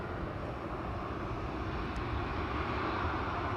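Airbus A320 airliner at Amsterdam Schiphol Airport, a steady broad engine roar heard at a distance, constant and moderately quiet throughout without any talking.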